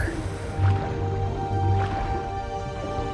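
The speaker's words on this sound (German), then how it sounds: "Schwimmen kann man hier auch." Splashing and gurgling water from a swimming character in the video game Guild Wars 2, with soft drips and sloshes at moderate loudness under a steady electronic background hum.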